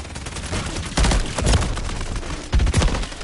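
Call of Duty gunfire rattles in dense bursts, with heavy volleys around the one-second mark and again near the end, over a steady din of battle.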